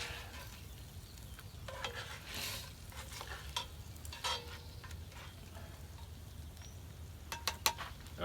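Frozen hash browns frying in sausage grease in a Dutch oven, a soft continuous sizzle with scattered scrapes and light metallic clinks, quiet and close.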